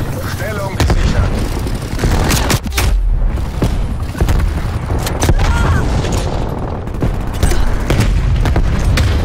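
A grenade detonates amid a dense Call of Duty: Black Ops Cold War multiplayer firefight. Heavy booms and rattling gunfire run loud and continuous throughout, with no clear gaps.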